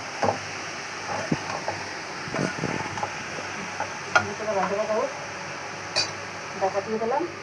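Sliced papaya fries in a pan with salt, a soft sizzle underneath while a utensil scrapes and stirs in intermittent bursts, with a few light clinks of metal against the pan.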